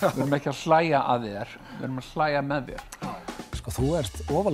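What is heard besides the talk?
None of the usual background noises is heard.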